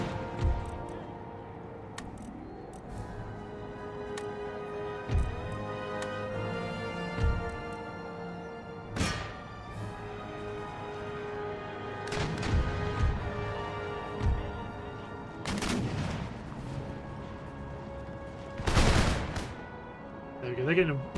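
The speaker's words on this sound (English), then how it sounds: "They're getting a volley fire put onto them." Musket volleys crack out in a battle in Empire Total War, with sharp bursts of gunfire and rolling fusillades rising over a steady background of battle noise, and someone talks over much of it.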